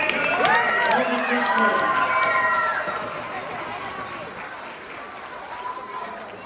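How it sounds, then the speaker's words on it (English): Audience applause and cheering at a children's science show, a loud crowd clapping with shouts and whoops over it, easing off slightly toward the end. "Let's give a round of applause for Alan."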